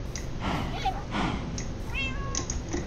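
A cat in the Minecraft video game meows several times in short, close, clear cries spaced across a few seconds, standing alone with no talk.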